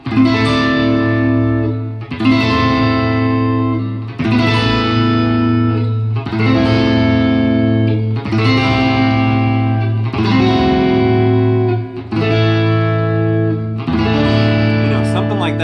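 Loud electric guitar chords with distortion and spacious, echoey reverb, struck in regular two-second phrases that ring out over a steady beat.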